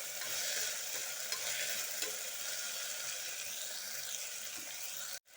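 Chicken biryani ingredients fry together in a single pot, giving a steady, close, crackling sizzle with occasional stirring scrapes that continues without talk before cutting off abruptly at the end.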